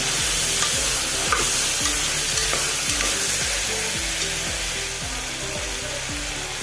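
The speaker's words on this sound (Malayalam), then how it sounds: "പച്ചക്കറിയിലിട്ട് ഒന്ന് ഇളക്കി കൊടുക്കാം" Mixed vegetables for a chapati curry sizzle loudly in a hot pan while a spoon scrapes and stirs them in a steady rhythm of repeated strokes, close and dominant throughout.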